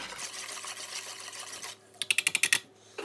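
A whisk beats a milky apple bread pudding mixture in a bowl, giving a short burst of about seven quick, evenly spaced clicking strokes after a stretch of quieter kitchen background.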